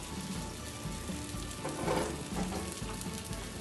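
Meat patties sizzle steadily in a hot pan over low heat, a continuous close crackle and hiss with small swells of spitting, no voices.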